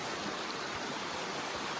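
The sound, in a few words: river flowing on a hot day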